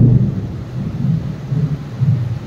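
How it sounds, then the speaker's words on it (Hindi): Thunder rolls through a storm in a long, low, continuous rumble that swells and fades over a few seconds, loud and close, with no voices. "बिजली कड़क रहा है"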